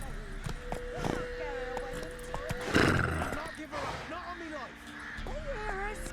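Roach, a horse in the video game The Witcher 3, gives a short neigh amid game ambience, with a voice talking over much of the scene.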